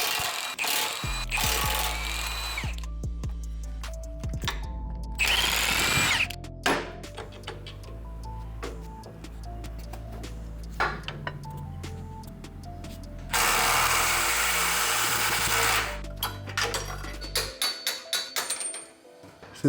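Power tool bursts loosening the four lower ball joint bolts on a modified first-gen Toyota Sequoia front end, several loud close rattling runs separated by pauses and clinking metal.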